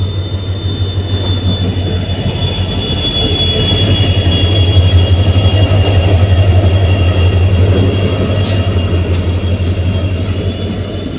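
A train rumbles loudly and steadily at close range on a foggy early winter morning, a deep continuous roar with a faint high whine riding over it and no voices.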